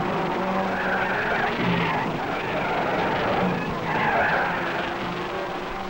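Racing cars from the 1961 Monaco Grand Prix roar past on the street circuit. Engines swell and fade as each car passes close by, with tyres squealing through the corners.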